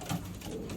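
Racing pigeons, including an old white Jensen bird, give a soft, brief coo, faint and low against a muffled background.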